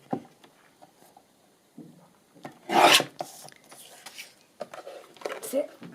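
Scissors or a blade trimming the edge of a paper book page for a pocket, giving short rasping cuts with one louder burst, fairly close and quiet.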